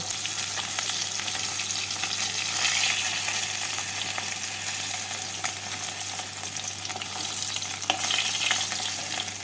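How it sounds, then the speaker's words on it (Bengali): Mrigal fish pieces frying in oil in a kadai, a constant close crackling sizzle with small pops, unbroken and alone, with a low steady hum beneath. "খুব বেশি কড়া করে ভাজবো না একদিকটা লাল হয়ে গেলে উল্টে দেব উল্টে আরেক দিকটা হালকা লাল করে ভেজে তুলে নেব"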